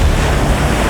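Ocean surf from Cyclone Pam batters the shore of Vanuatu in a loud, continuous roar with heavy wind buffeting the microphone and no distinct breaks between waves.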